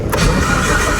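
Big-turbo Mitsubishi Evo engine firing up on a dyno day, a loud close crank catching into a rough running roar that holds steady for the whole moment.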